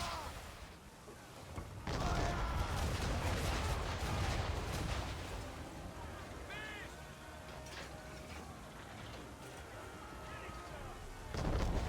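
Ship cannons in Assassin's Creed 3 fire a heavy volley, deep booming blasts rolling together near the start and again at the end, with shouted voices over the battle.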